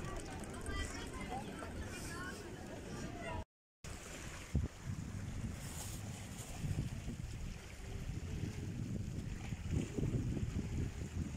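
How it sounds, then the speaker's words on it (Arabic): Sea near Bursa, Turkey: a continuous broadband wash of waves and surf mixed with gusty wind buffeting the microphone, with people talking over it. "صوت البحر شد حلو."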